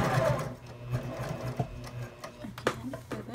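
A sewing machine stitches a zipper pouch for sunglasses, a close, steady mechanical whir with soft rhythmic ticks and a few sharper knocks near the end.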